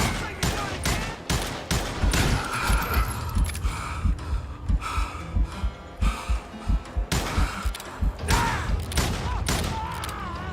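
Revolver gunfire in the Call of Juarez Gunslinger western shooter game, a dense run of sharp loud shots with echoing tails and game effects layered over a continuous soundtrack.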